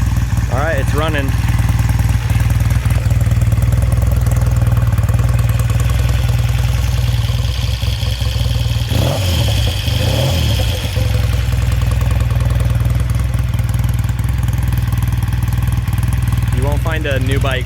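Vintage motorcycle engine running at a steady idle, a constant low rumble close by, with brief voices and some clatter over the top.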